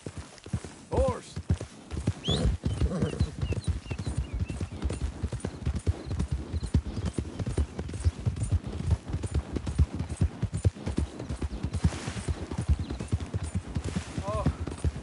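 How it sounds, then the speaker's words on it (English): Steady clip-clop of hooves runs throughout, with a couple of horse whinnies rising above, alongside talking and ambience from a PS4 video game. "Horse."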